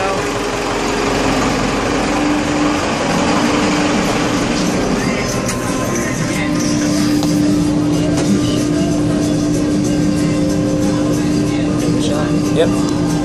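A stock, unmodified Cummins 4BT diesel engine runs on a dyno, giving a loud, steady, close drone with a constant tone that holds for the full stretch without pause.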